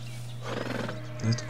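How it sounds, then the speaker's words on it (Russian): A horse snorts and whinnies briefly at close range, with a short loud neigh at the end over a steady low hum. "Это кони."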